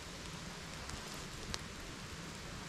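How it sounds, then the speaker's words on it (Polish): Steady rain falls in a forest during mushroom season, a soft continuous hiss of drops with a few faint taps close by. "Ale to właśnie pokazuje, jak pada dalej."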